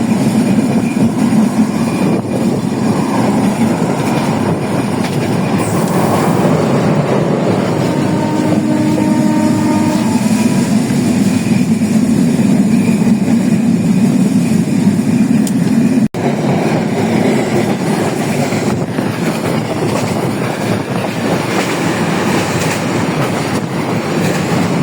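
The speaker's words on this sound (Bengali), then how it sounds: "আমাদের ট্রেনটি অনেক গতিতে চলছে।" A passenger train speeds through rural farmland of mustard fields, a loud continuous roar of wheels and rail noise with faint clickety-clack, recorded from on board with no talking.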